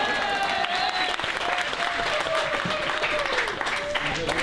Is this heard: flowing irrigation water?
no